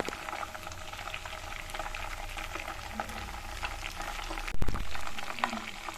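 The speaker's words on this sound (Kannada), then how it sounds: "ಚಟಪಟ ಅಂತ ಸೌಂಡ್ ಬರ್ತಾ ಇದೆ" Ghee bubbles and crackles as it boils in a pan, a steady close patter of small pops with a brief louder burst near the end and no voices.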